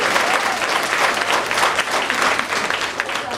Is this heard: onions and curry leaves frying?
no